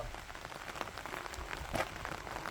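Steady rain falls on a hazelnut orchard, a dense, even patter of drops striking leaves and surfaces, close and continuous throughout with a slight swell near the end and no talking.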